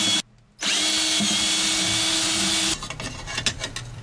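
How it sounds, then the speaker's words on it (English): A power drill bores screw holes through the sidewall of an electronics box for mounting a TNC enclosure, its loud steady whine running for a couple of seconds after a brief pause, then giving way to rattling handling noises. "mark where we want to drill our screw holes"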